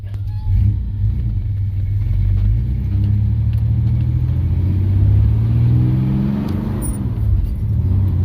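A 1985 Chevy S10 pickup drives around the block, heard from inside as a loud, steady low engine rumble that rises and falls with throttle, with road noise and a faint rattle throughout.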